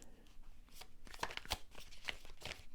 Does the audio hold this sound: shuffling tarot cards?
yes